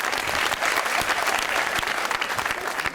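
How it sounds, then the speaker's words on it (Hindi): A studio audience at a TV comedy talk show claps in a lively burst of applause, many hands with individual sharp claps standing out in the dense patter. "तालियां यार इसके लिए, तालियां"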